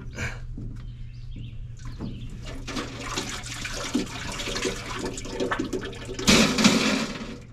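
Oil drains from a Bomag BW213 compactor into a drain pan, a fluttering, gurgling liquid pour with irregular splashes that swells near the end; close by and alone without talk.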